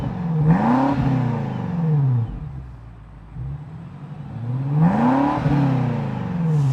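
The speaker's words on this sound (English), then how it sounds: "this thing sounds absolutely phenomenal" A 2024 BMW X5 M Competition V8 revs loudly through its quad exhaust outlets in two rising-and-falling sweeps, separated by a quieter idle lull, close and unaccompanied by talk.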